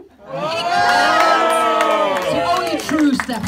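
An audience cheering at a Steps Q&A in a cinema, a loud burst of shouts and whoops from a packed crowd, rising quickly and staying strong throughout.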